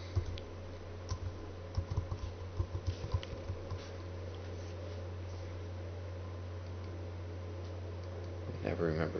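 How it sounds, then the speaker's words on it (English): Bursts of keyboard typing, quick uneven clicks over a steady low hum, fading out midway, followed by a short sound near the end. "Having some trouble typing this morning."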